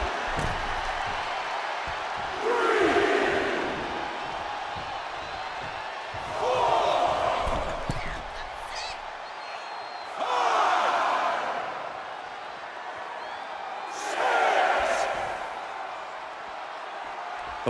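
Wrestling crowd from the Raw arena in WWE 2K24 swells in four broad waves of cheering roughly every four seconds, with a steady murmur of crowd noise between the surges.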